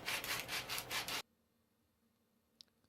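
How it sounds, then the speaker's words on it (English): Coarse sandpaper rubbed back and forth on wood, a loud rhythmic rasping in about five strokes, then sudden near-silence with one faint click. "Here is the coarsest kind of sandpaper, and it wears away wood"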